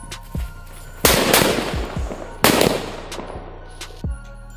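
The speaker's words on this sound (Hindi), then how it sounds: "सो नेक्स्ट आता है हमारा अनार प्लस ये सुतली बम, तो चलिए इसको भी टेस्टिंग करते हैं" Diwali firecrackers going off: an anar fountain and a sutli bomb, with two loud sharp bangs followed by crackling bursts and several smaller pops, close and punchy, with no talking.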